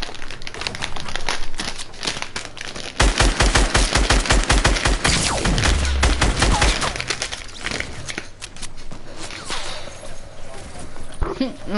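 Rapid bursts of gunfire in the battle game Fortnite, dense and loud through the middle stretch with scattered single shots before and after, as players shoot at one another; a voice may be heard briefly.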